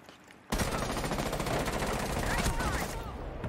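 Rapid video game gunfire erupts suddenly and stays loud, a dense burst of repeated shots like automatic fire rattling for about three seconds, with faint talk mixed underneath.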